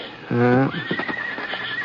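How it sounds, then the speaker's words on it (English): A horse in an old-West radio drama lets out a loud, close whinny lasting about half a second, then hooves clip-clop in a steady rhythm under a thin high whine that carries to the end. "There were only 3 or 4 horses out in front, a couple of buggies."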